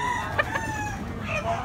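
A regular-size bullstag gamecock crows once, close and clear, its call rising and falling over steady background noise at a cockfighting venue in Tabunok.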